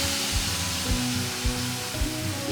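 Seasoned beef strips hit a very hot pan and sizzle with a steady, loud hiss. Soft periodic thumps of stirring sound close by, with no talking.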